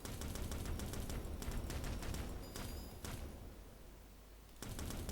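Gem bombs detonate in Gemcraft Frostborn Wrath, a dense crackling barrage of overlapping explosions with sharp bursts, easing briefly before another loud cluster erupts.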